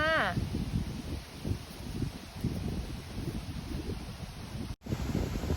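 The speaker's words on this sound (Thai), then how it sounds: "ขออภัยกับความลม ลมแรงนะคะ ลมแรงมาก ๆ" Strong, very heavy wind buffets the microphone outdoors in a mushroom-foraging area, a constant loud roaring rumble with a brief dropout near the end.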